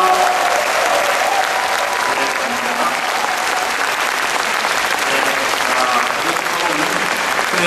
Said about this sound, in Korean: 정치 채널 유정규 선생님에게 힘찬 박수 한번 더 부탁드립니다.